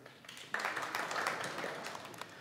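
A small group at a Java developer conference talk breaks into applause, scattered clapping that starts abruptly and continues at a moderate, slightly distant level.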